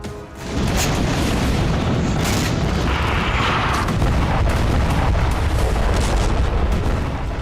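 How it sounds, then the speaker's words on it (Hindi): Gunfire from a Russian Mi-28 helicopter in a combat zone, a loud dense continuous roar of rapid firing and booms that carries on without break. "हेलीकॉप्टर से लगातार फायरिंग हो रही है।"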